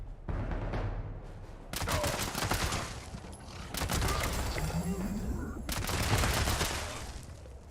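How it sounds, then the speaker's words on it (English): Tommy gun fire in Fallout 76, coming as several long automatic bursts that rattle loud and close with short pauses between them. "I'm running around with a Tommy gun"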